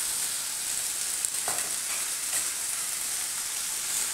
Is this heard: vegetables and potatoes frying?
yes